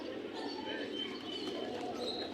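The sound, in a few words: pigeons cooing at pigeon market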